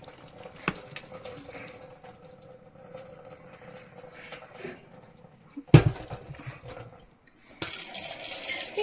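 Water is drained from a pot of boiled macaroni in a home kitchen, a faint running pour with clattering of pot and utensils and a louder gush near the end.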